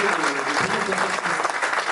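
Applause for young musicians of a school orchestra at its inauguration, a dense, steady patter of many hands clapping at close range with no voices over it.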